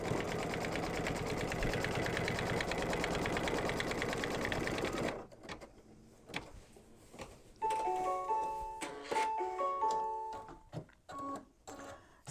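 A home embroidery machine stitches a mug rug panel and pocket seam together, a loud steady rapid whir running alone for about five seconds before stopping, followed by quieter clicks and a short series of electronic beeps.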